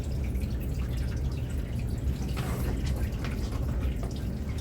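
Water splashes and trickles during a dog's bath as the coat is soaked down to the skin and scrubbed, a close, steady patter of dripping and running water with a brief brighter gush midway.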